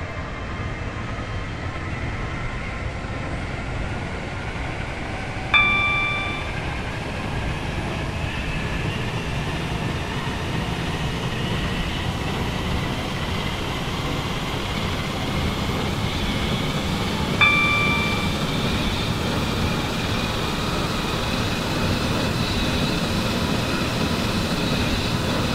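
A Roblox Stepford County Railway airlink train running toward Stepford Central, with a steady rumbling rail drone throughout and two brief chime tones partway through, no talking.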